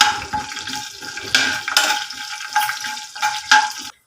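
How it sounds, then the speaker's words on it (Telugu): Cumin, chana dal and urad dal fry in oil in a pan, a close crackling sizzle in uneven bursts with stirring scrapes and clinks before it cuts off abruptly. "ఇవన్నీ కొంచెం ఫ్రై చేసుకోవచ్చండి."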